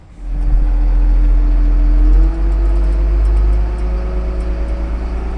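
A farm vehicle carrying a passenger over to a grader: a loud, close engine rumble with a deep steady drone, a brief shift in pitch partway through, then continued even running, no talk.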